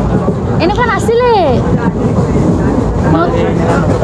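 Inside a moving passenger train in Assam, a steady rumble and rush fills the carriage, with brief high squeals rising over it, while people talk nearby.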